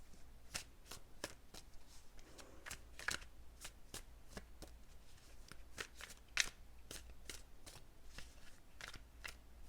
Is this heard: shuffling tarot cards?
yes